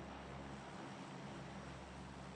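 A low-flying transport plane drones steadily overhead in the battle royale game PUBG on the Karakin map, a constant broad engine roar that fills the whole stretch without letting up.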